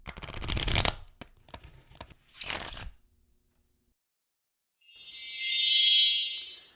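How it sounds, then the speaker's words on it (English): Electric Forest playing cards are handled and unboxed with papery rustles and crisp clicks, then after a pause a smooth, airy riffle of cards fills the end of the clip. "I'm going to be unboxing Electric Forest playing cards."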